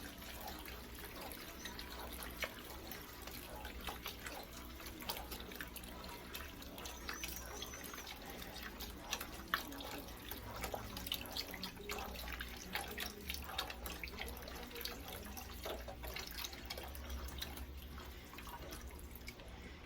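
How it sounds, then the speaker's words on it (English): Chicken stock pours from a container into a soup pot for cream of mushroom soup, a steady trickling, splashing liquid sound lasting about twenty seconds without speech. "we're going to put the chicken stock in first"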